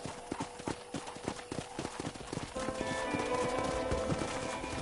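Horse hooves in Red Dead Redemption clip-clop in a quick, steady trotting rhythm, close and clear, with a louder rushing backdrop joining partway through.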